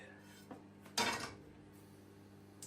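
A pan being handled on a stove before heating at max, producing a couple of light metallic knocks and one louder clatter of cookware, close and otherwise quiet.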